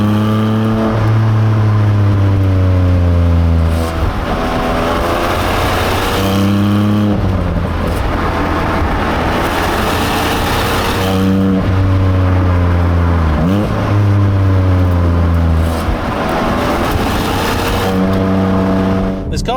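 A Porsche 718 Cayman GTS with a 4.0-litre engine driven hard through tight corners, its engine loud and close as it revs up repeatedly, drops back on lifts and shifts, then climbs again in rhythmic pulls.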